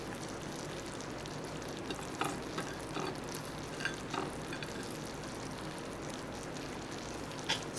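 Spring onion dropped into a pot of simmering Vietnamese caramelized catfish, giving a soft steady sizzle and bubbling with a few faint clicks and stirring taps, no voices.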